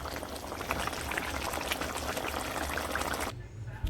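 Cow foot stew boils in a pot, a dense steady bubbling and sputtering close up that cuts off near the end.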